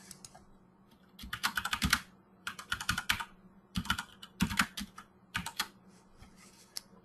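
Fingers type a variable name on a computer keyboard in quick, uneven bursts of close, crisp key clicks separated by short pauses, with faint background hum and no talk.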